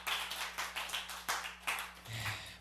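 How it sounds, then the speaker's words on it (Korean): A small church gathering claps for a young man named Byeonghun, a handful of distinct, fairly sparse claps in an uneven rhythm against a low room hum. "우리 병훈이한테 박수"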